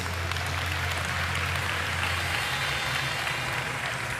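Steady, distant applause from a large audience at a Democratic Alliance federal congress, a continuous dense patter of clapping at a fairly low level with no talking over it.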